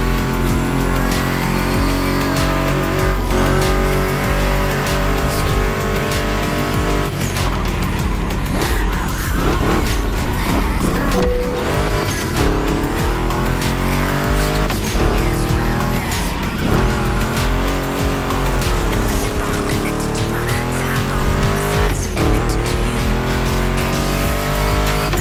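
Ford Mustang GT muscle car racing in The Crew Motorfest, a loud continuous engine roar rising and falling through gear changes, with tire squeals and skids through turns, close and constant, no talking.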